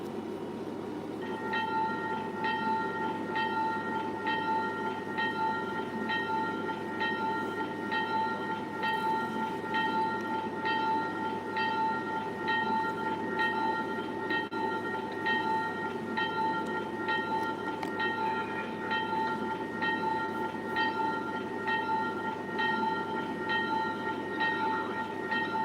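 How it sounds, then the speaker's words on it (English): A train pulls into Canton Junction station with a steady rumble, a rhythmic series of high tonal chimes or bell-like pulses running throughout, and no voices. "We are pulling into Canton Junction Station."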